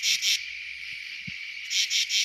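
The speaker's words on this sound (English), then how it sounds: "I hope you can hear those cicadas" Cicadas call at Chesapeake Bay in a continuous, bright, high-pitched buzz, pulsing louder in short bursts at the start and end, with nothing else over it.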